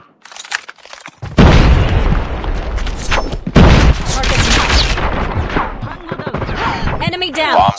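Grenade blast and heavy gunfire in the mobile shooter COD Mobile: a loud booming explosion around a second in, a second burst mid-clip, then sustained close rapid gunshots, with game voice callouts and chatter over the top.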